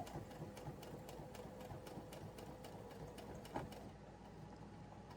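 A sewing machine stitches fabric for a tissue cover, its needle running in a quiet, steady rapid rhythm of regular mechanical ticks with a faint motor hum beneath.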